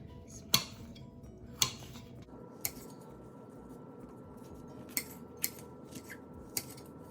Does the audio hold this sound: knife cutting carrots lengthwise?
yes